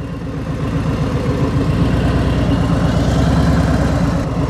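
A motorcycle fitted with drop guards idles with a steady, close low rumble as the clutch engages and the bike starts rolling at full handlebar lock, with no throttle.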